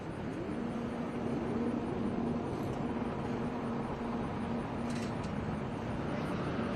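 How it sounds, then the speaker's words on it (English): Several race cars idle and rev together on the grid before a standing start at NJ Motorsports Park in a FR Americas race, a dense steady engine drone with a faint tonal hum, heard at a distance. "Cars are on line. Here come the revs."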